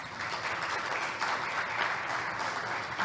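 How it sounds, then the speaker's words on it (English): An audience claps continuously for a few seconds, a dense, even patter of many hands in a room. "If we can give Eric a round of applause."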